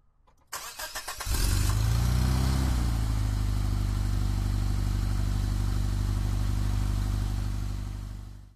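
A car engine starts with a short cranking burst, then holds a steady, close, loud idle that fades slightly near the end.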